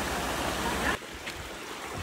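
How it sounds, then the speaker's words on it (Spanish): A mountain waterfall rushes with a steady, broadband roar that cuts abruptly to a quieter, more distant flow of water partway through. "buscando para la waterfall, la cascadita"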